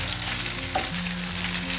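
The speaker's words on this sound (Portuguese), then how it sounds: "Olha lá, vai soltando a corzinha da panceta." Pancetta fries in a pan for an Italian casoncelli alla Bergamasca dish, a steady, loud, close sizzle and crackle with no voices.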